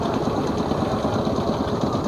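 Allis Chalmers AC ED 40 fitted with a V8 305 engine runs steadily throughout, a dense continuous engine drone with a fast rhythmic pulsing and no talk.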